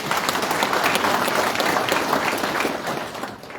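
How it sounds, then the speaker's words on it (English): An audience at a foot-and-mouth disease conference claps in sustained, dense applause that holds steady and then tapers slightly at the end. "Can we give him a round of applause?"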